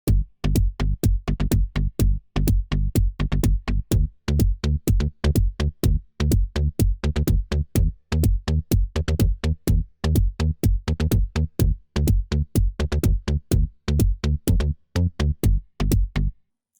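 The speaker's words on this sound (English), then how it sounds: "A very typical FM bass, really punchy and tight." A punchy, tight FM synth bass from Waves Flow Motion pulses in a quick repeating pattern alongside a thumping kick drum, loud and driving with no voices.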